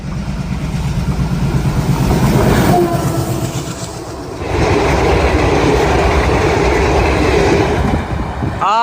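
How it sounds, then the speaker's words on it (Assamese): A train rumbles past close by, a loud continuous roar with rattling wheels that swells midway and stays heavy to the end. "ট্ৰেইনৰ শব্দ পাইছোঁ ট্ৰেইন আহি আছে"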